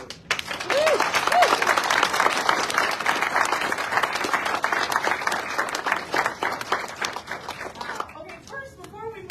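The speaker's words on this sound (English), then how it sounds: "let's just give a round of applause to everybody" Sustained applause from an audience at an outdoor rally backing East Phillips against a roof depot demolition, loud and continuous clapping with a few cheers, tapering off near the end.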